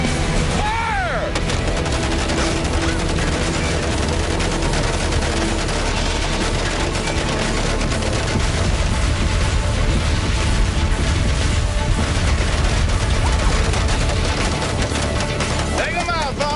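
Sustained volley of gunfire from many weapons fired together on a range, dense and continuous for the whole stretch, loud and close, with voices faintly mixed in.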